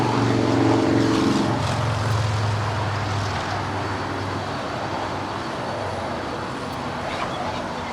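A Condor Boeing 767-300ER airliner arriving from Frankfurt at Los Angeles airport roars loudly at first, its low engine drone fading into a steady broad rush of jet noise over the remaining seconds.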